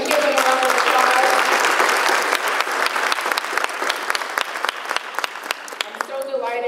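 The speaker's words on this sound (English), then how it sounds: "Can we give them a round of applause?" A breakfast audience at a funeral service awards event breaks into a full round of applause for the event's hosts and staff, dense and loud at first, then thinning into scattered individual claps as it fades.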